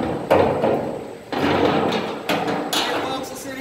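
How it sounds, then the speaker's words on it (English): Several sharp hammer blows drive a metal plug into a drum at uneven intervals, each a hard knock followed by a short ringing decay, close to the listener. "One clean smack with the hammer and it will fit in there."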